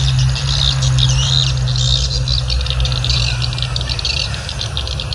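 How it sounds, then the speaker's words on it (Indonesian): Swiftlets return to a swiftlet house, a dense continuous chatter of chirps and rattling calls over a steady low hum, close and loud throughout with no talking. "Arah matahari terbit pagi, burung walet pulang."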